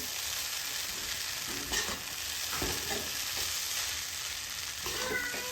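Flattened rice for kanda poha mixed in a pan with sugar and salt, a steady soft frying hiss broken by a few spatula scrapes and taps.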